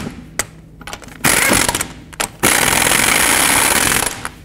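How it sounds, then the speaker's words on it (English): Torque wrench tightening the wheel lug nuts on a 2007-14 Chevy Silverado, loud close metallic ratcheting in short bursts and then a long sustained run, with no talk. "Snug them down, and then I'm going to torque them to 140 foot-pounds."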